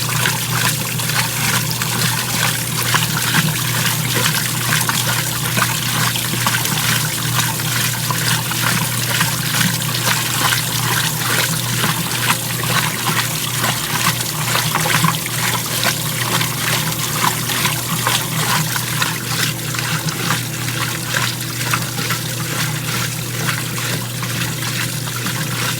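Water sloshing and splashing out of a washtub during a washday gathering, a steady, dense trickling and spattering that continues without pause for the whole stretch.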